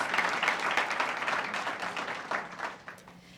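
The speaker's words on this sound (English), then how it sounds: "So please help me thank Dr. Woods with a warm round of applause." Audience applause at a library dedication ceremony at a middle school, a steady round of clapping from a seated crowd lasting the whole stretch and tapering slightly toward the end.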